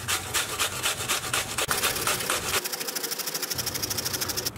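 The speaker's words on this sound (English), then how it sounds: "get your onion, and we're just gonna grate it" An onion rasped against a hand grater in a kitchen, steady rhythmic scraping strokes, close and loud, speeding into quicker, shorter passes near the end, with no talking.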